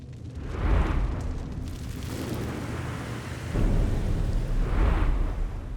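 Two deep booms from a 12-pounder cannon firing, each a heavy blast with a rolling, rumbling tail, heard at a distance a few seconds apart with no talking.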